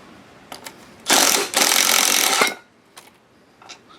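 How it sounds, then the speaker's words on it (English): Ratchet turning a 1/2 inch socket on the mower deck spindle bolts of a Cub Cadet 833E, a close, loud burst of rapid clicking lasting over a second, then a few short faint clicks. "I'm going to take these 4 bolts out. It will take a 1/2 inch socket."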